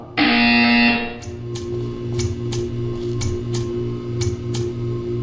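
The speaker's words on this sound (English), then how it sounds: "When you hear the buzzer, stare at the art." A harsh electronic buzzer in the Portal 2 video game sounds loudly for about a second, then a steady humming drone continues with rhythmic clicking pulses.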